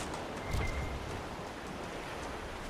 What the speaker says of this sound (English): It's always raining